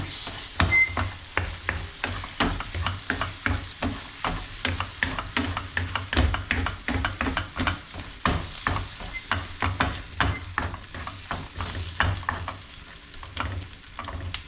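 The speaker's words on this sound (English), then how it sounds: "Now, stir this up, baby." Breakfast food is stirred in a hot pan, with a steady close sizzle under a brisk, continuous rhythm of spoon scrapes and knocks.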